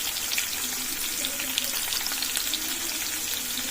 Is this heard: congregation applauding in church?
no